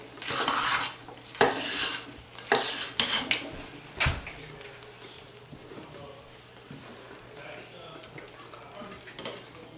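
Soap batter stirred and scraped with a cake knife inside a crockpot during hot process soapmaking with turmeric and paprika, giving repeated clinks and scrapes of metal against the ceramic pot, close and moderately loud, with a voice and talk in the background.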